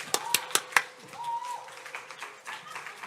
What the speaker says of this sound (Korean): 우리 박수로 우리 강사님 맞이하겠습니다.